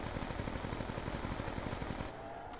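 Rapid automatic gunfire from Call of Duty Black Ops 2 zombies mode, a quick steady rattle of shots for about two seconds, fairly faint, then cutting off.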